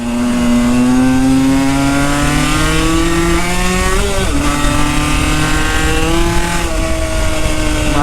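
Motorcycle engine on a ride, loud and close, holding a steady tone that climbs slowly before dipping briefly and settling again, with no talk over it.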